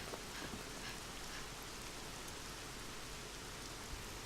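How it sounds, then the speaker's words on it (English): Rain in the video game Dragon Quest XI, a steady even hiss of falling rain with a few faint drop ticks, quiet and constant throughout, with no talking. "Oh no, the rain!"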